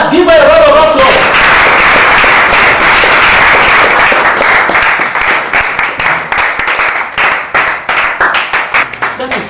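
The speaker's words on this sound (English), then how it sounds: "class, give her a round of applause" A classroom erupts in loud, thick applause for a student after a brief voice, then thins out into separate, fading claps toward the end.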